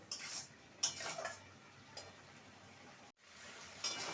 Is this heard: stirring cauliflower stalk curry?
yes